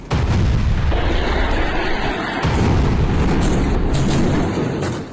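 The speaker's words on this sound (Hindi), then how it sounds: "यहां एक साथ इजराइल ने कई ठिकानों पर ताबड़तोड़ बम बरसाए।" Israeli bombing in Beit Lahia, North Gaza: heavy, continuous booming explosions fill the scene, loud and dense, with repeated blasts overlapping into a roaring rumble.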